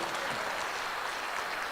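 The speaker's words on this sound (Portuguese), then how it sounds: "Aplauda este Senhor da glória." A church congregation applauding during a sermon, a continuous even roar of many hands clapping together, filling the brief moment without speech.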